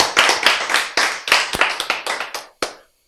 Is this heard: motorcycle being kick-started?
no